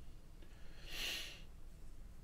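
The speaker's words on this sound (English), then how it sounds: "Excuse the sniffles and stuff." A single sharp sniff through the nose, near and brief, over quiet background.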